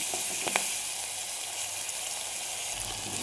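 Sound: ginger, green chili and garlic sautéing in pan

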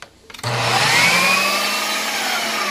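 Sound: food processor mixing onion

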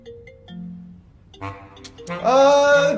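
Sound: mobile phone ringtone

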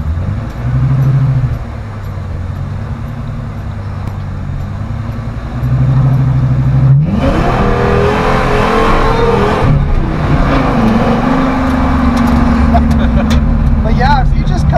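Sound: V10-swapped Ford F100 engine revving on the limiter

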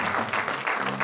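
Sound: congregation applause, hand clap of praise

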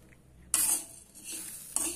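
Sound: moong dal added to a pan and stirred

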